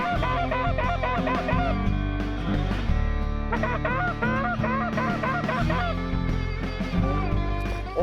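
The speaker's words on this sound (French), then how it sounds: "les outardes passent par-dessus puis ils aiment vraiment pas ça" Canada geese honk loudly and continuously as a flock passes overhead during a waterfowl hunt, dense overlapping calls filling the whole stretch with little pause.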